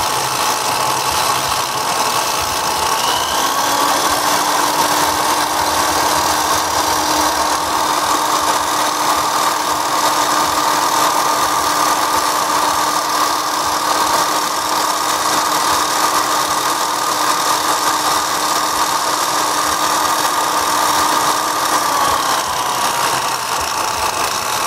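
A drill spins a knife's lock bar stabilizer against a Scotch-Brite pad, giving a loud, steady motor whine with abrasive hiss that holds constant for about twenty seconds before easing slightly at the end.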